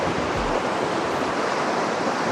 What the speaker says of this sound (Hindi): ये जो पानी है, अब ये पता नहीं कोई दरिया है, नाला है, क्या है